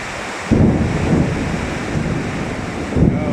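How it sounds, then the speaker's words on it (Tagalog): During a heavy rainstorm, deep thunder rumbles loud and close, swelling suddenly and rolling on under the constant roar of rain and wind, with a second surge near the end. "May kasama pang kulog."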